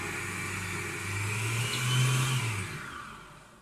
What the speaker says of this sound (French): on va laisser tourner le robot tout seul